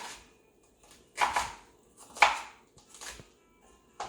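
A cutting knife chops through food on a board: three or four distinct, fairly close chopping strikes, spaced unevenly about a second apart in a quiet room, with no talking.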